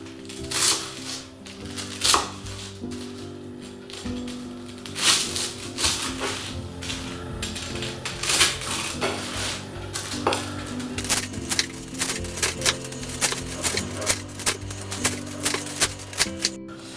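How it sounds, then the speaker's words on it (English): A knife cuts the crusts off thin slices of toasted bread for Melba toast, with repeated dry crisp crunches and scrapes against a board, fairly close and continuous, with no one speaking. "the next thing is to cut the crusts off"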